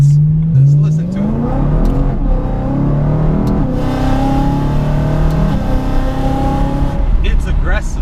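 An E92 BMW M3 engine revs hard and close, pitch climbing then dropping through several quick gear shifts, a loud continuous roar with brief pops between changes.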